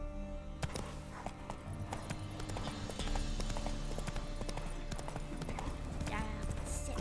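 Roach, Geralt's horse in The Witcher 3, gallops with a steady, loud clip-clop of hooves over game ambience and music, while a voice talks briefly over the ride.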